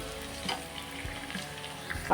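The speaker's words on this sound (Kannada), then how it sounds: "ಫಸ್ಟೇ ಬದನೆಕಾಯಿನ ಈ ಥರ ಫ್ರೈ ಮಾಡಿ ಎತ್ತಿಟ್ಕೊಂಡ್ಬಿಡ್ತೀನಿ" Steady sizzle of brinjal frying in hot oil, with occasional soft stirring clinks and scrapes, close and continuous, no talking.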